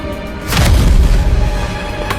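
A deep, booming blast swells up after a brief quiet moment, rumbling low for over a second before slowly fading into a lingering background hum.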